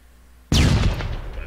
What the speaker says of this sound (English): Do a quick bang and clear with a stun grenade.